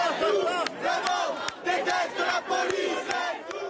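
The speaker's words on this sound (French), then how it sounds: "C'est une foule compacte qui avance vers la préfecture de Nanterre." A dense protest crowd chants and shouts in rhythmic unison while marching toward the Nanterre prefecture, with loud, steady voices and sharp periodic claps or bangs.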